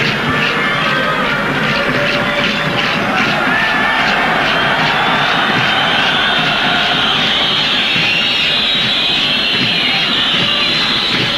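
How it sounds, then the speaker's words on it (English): A dense crowd in a football stadium at the 1994 African Cup of Nations final between Nigeria and Zambia in Tunisia keeps up a steady roar with loud, shrill whistling layered throughout. "Loud whistling in the crowd there."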